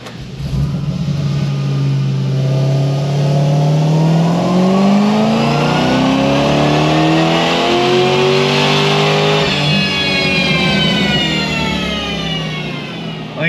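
Supercharged Pontiac GXP engine in a sustained full-throttle pull, loud and close, pitch climbing steadily as revs build, with a brief dip near the top before rising again; no talking.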